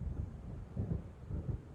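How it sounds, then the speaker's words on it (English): Low rolling thunder from an approaching storm in the video game Alan Wake, heard as a deep rumble that swells in several soft waves, with no other sound. "It seems there's a storm coming."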